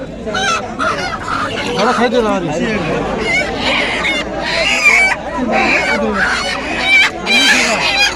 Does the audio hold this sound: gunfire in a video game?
no